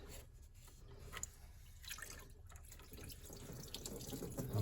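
Coolant spills from a disconnected line on a 2014 four-cylinder Honda Accord, making a faint trickling, splashing run of liquid with scattered drips, quiet and close.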